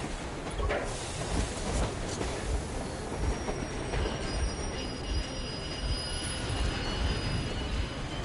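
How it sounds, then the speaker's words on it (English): A train in the game Metro Exodus rumbles past close by, wheels grinding and squealing on the rails with a loud, continuous roar and rhythmic knocks, no talking over it. "He just jumped out and got run over by a train."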